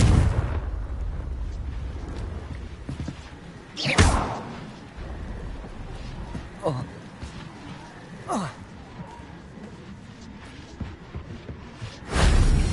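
Confringo fire spells bursting in Hogwarts Legacy, a few loud whooshing blasts spaced apart against a steady game rumble, each ending in a sharp burst, with a voice talking between them.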